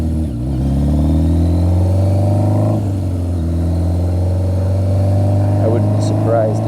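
Cafe racer motorcycle engine revving while riding along Sunset Boulevard, a loud steady mid-pitched drone with rising and falling pitch sweeps, close to the rider, with someone talking over it throughout.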